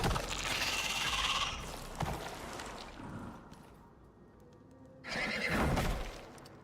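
A horse in the video game Icarus neighs loudly at the start and again near the end, a shrill whinny with faint clip-clop between calls, with no talk.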